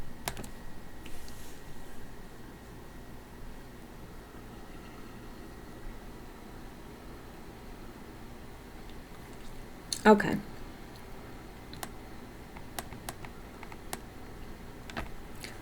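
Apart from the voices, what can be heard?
clicking computer keyboard down arrow key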